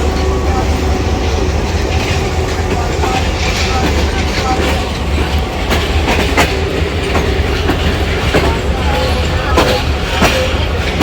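A shunter locomotive moves through a rail yard in Pakistan, with a steady, loud rumble of rolling wagons and clickety-clack wheel beats running throughout, punctuated by sharp metallic knocks and faint wheel squeal.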